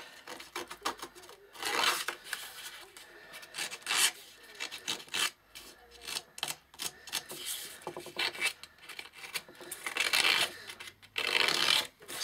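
A hand distressing tool rasps and rubs across painted wood on a shabby chic desk tidy, in irregular scraping strokes that come in close bursts of varying length with short pauses between.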